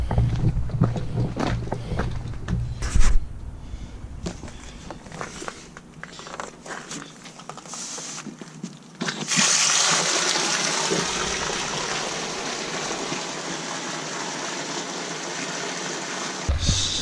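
Water from an RV fresh water tank being sanitized pours steadily onto the ground, a broad rushing gush that starts abruptly midway and continues evenly, following earlier handling noises and footsteps.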